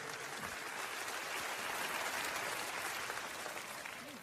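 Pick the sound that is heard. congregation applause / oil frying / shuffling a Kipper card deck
congregation applause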